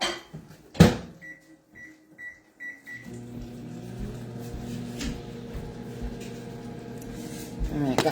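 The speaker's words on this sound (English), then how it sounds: "I'm going to go put this in the microwave" A microwave oven beeps several times, then its steady low hum and whir runs continuously for a 90-second cook, with a few clicks and clatters near the end.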